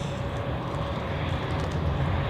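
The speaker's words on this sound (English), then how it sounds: "Rotate and off we go." An airliner roars down a wet runway and lifts off at Zurich Airport, a loud, steady jet rumble with a broad hiss that holds continuously and builds slightly near the end.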